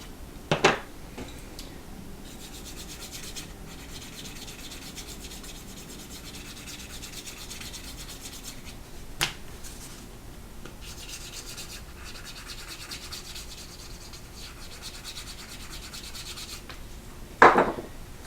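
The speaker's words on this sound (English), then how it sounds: "you would go ahead and obviously wax your edge using whatever wax you have" Wax rubbed by hand along the edge of a leather card slot, a soft steady scraping that runs quietly throughout with a few sharp knocks.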